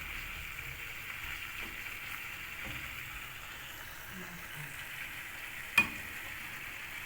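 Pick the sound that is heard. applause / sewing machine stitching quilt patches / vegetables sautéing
vegetables sautéing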